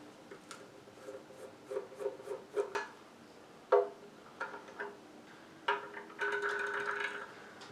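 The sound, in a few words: screwdriver unscrewing battery hatch on diecast Enterprise model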